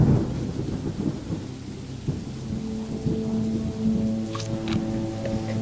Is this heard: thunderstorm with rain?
yes